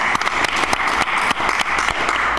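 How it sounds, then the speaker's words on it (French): An audience at a religious retreat in Paris claps together in a dense, steady round of applause that lasts a couple of seconds. The sound is moderately loud and has no talking over it. "Let us give one more clap to Jesus."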